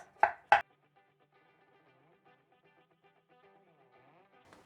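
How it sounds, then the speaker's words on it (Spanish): Two sharp knife chops on mushrooms against a cutting board come close together and are followed by near silence, with faint kitchen clatter at the end. "Mientras tanto voy a picar los champiñones."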